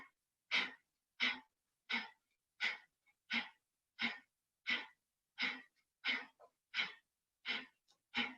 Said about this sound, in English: It's short inhales and exhales through your nose.